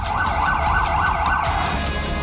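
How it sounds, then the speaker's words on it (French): A powerful siren on a French riot police vehicle wails in rapid, loud, close up-and-down cycles over a rumbling engine, then the pattern cuts off abruptly. "Combiné à la sirène super puissante, le facteur stress est garanti."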